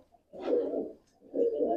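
Two soft, throaty pigeon coos sound close by, separated by a short pause, with no talking.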